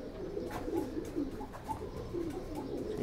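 Repeated soft, throaty cooing of pigeons at a loft, with a red-eyed female among the birds, low rolling calls close by over a faint background.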